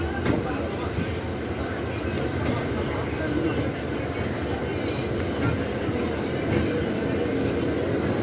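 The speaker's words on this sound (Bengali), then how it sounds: "সঙ্গে সঙ্গে আমাদের এই ট্রেন ছেড়ে দিল হাওড়া থেকে দীঘার উদ্দেশ্যে।" Tamralipta Express passenger train pulling out of Howrah station toward Digha, a steady low rumble of wheels and carriage noise from inside the coach, continuous and fairly loud with faint background voices.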